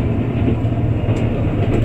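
Yufuin no Mori limited express train running on rails between Yufuin and Bungo-Mori, captured from inside as a steady low rumble and continuous wheel noise that stays loud and even throughout.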